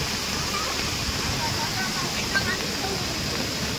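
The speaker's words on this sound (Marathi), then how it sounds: "पण धबधबा बघा लय भारी असा" A hidden forest waterfall on a village plateau near Gavrai roars in a steady, dense wash of falling water, close and loud throughout.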